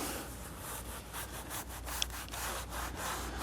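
Rhythmic back-and-forth sanding strokes rasp against soft Alcantara upholstery in a Corvette interior, repeating steadily and close up with no talking.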